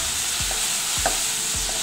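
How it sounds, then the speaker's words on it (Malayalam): Fish curry masala with spice powders stirred and mixed in a hot pan, a constant sizzle broken by three evenly spaced scraping strokes of the spoon. "നന്നായിട്ടൊന്ന് ഇളക്കി യോജിപ്പിക്കാം."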